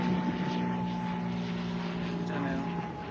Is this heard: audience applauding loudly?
no